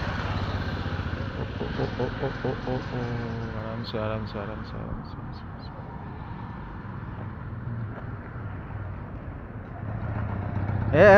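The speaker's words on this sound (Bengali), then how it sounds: "ছেলে বাইক চালানো শিখছে" A motorbike ridden slowly by a boy learning to ride, its engine a steady low rumble close by under a man's repeated calls, rising briefly louder at the end.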